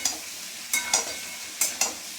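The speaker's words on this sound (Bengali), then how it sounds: "আমি লাউ দিয়ে এটা কষে নিই ভালো করে" Bottle gourd stir-fried with spice paste in a pan, a soft background sizzle broken by four sharp scraping strokes that come in two pairs.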